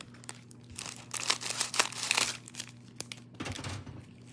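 Paper being trimmed with large scissors during card making, the extra strip cut off close by: crisp snips and crinkly tearing-like rustles in short bursts, over a steady low background hum, with no speech.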